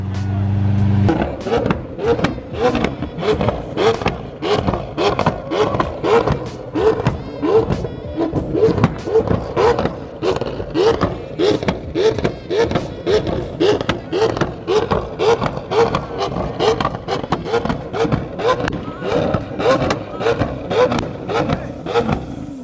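A BMW E30 and a $600,000 Lamborghini Aventador rev against each other in a rev battle, loud repeated engine blips pulsing steadily for over twenty seconds with a rough rhythmic roar, close and dominant.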